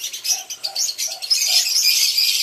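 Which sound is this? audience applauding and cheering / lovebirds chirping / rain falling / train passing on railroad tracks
lovebirds chirping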